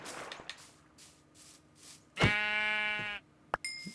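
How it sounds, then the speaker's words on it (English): A sheep in the Minecraft video game lets out one loud, drawn-out bleat of about a second, with a brief sharp hit after it and soft ambient game sounds in the background. "See how long it takes to kill this innocent sheep."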